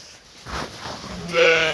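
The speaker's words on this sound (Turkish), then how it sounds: "Nerede yavru keçimiz?" A young goat kid on a farm lets out a short, close bleat near the end, after a stretch of quiet rustling.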